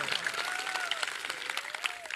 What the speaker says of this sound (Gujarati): તાળીઓથી ગડગડાટથી બધા હોય।